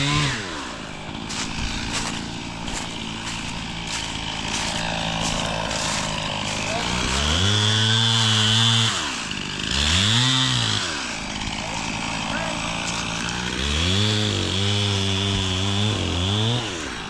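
A chainsaw cutting down a tree revs up and down repeatedly at close range, its engine whine rising and falling in loud surges over a steady idle.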